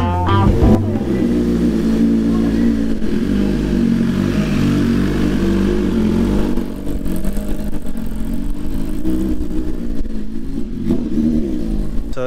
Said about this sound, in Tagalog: So, na-test ride na yung big bike natin. Umiikot-ikot na siya dyan.